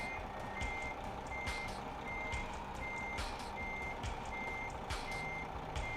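Reversing alarm of a truck in Euro Truck Simulator 2, sounding as a steady run of regular high beeps over a constant engine rumble, with no talk.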